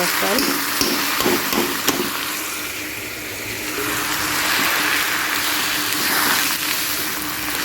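Onions for pulao sizzle steadily in hot oil in a home kitchen, a continuous crackling hiss that swells and eases as they are stirred, with a few sharp clinks early on.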